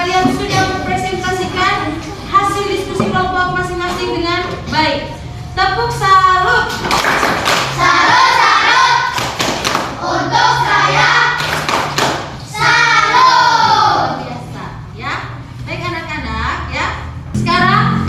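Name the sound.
classroom students clapping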